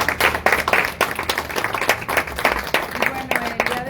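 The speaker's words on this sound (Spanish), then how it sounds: "Nuevamente le brindamos un fuerte aplauso." Strong applause for a speaker at the close of a talk, loud close clapping with distinct individual claps from a smallish audience, lasting a few seconds.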